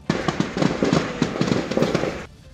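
Rapid gunfire from an armed encounter crackles continuously, a dense stream of sharp bangs rattling off one after another for a couple of seconds before stopping abruptly.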